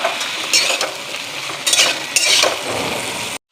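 Vegetables with thick spinach stalks fry in a pan with dried red chillies and five-spice seasoning, a steady loud sizzle broken by bursts of stirring and spoon scrapes against the pan, close up with no talking.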